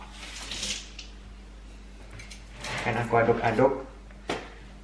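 Cookie dough for Medan-style Lebaran cakes is stirred in a bowl, giving a soft sticky squish followed by a louder burst of scraping and clattering against the bowl, with a faint low hum beneath.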